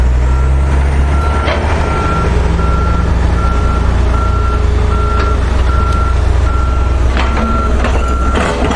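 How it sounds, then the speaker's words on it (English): A truck backing up at a road-widening construction site, its reversing alarm beeping in a steady, evenly spaced series over a loud diesel rumble and the drone of nearby heavy machinery. "We have the truck now backing up."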